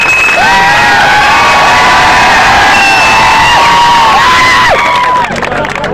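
A dense festival crowd at a Dussehra gathering in Cheema, Punjab, roars and cheers loudly and continuously, with whoops and shrill shouts rising above the noise and fading slightly near the end.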